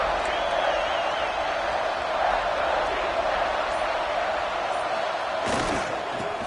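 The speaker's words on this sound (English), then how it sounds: "this crowd bearing down and getting loud on 3rd down." A large football stadium crowd roars steadily on third down, a dense wash of cheering and noise that stays loud throughout, with a sharp burst near the end.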